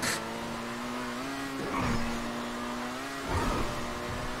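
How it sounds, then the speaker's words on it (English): Video game car doing a burnout: a steady droning engine tone holds throughout, with two brief swells of hissy tire squeal rising over it near the middle and end. "Still burning out. Still burning out."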